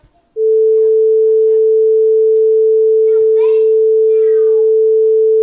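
A steady 440 Hz A4 sine tone from a tonoscope, the standard piano-tuning pitch, starts abruptly and holds loud and constant, with faint chirpy sounds and a brief murmur flickering underneath.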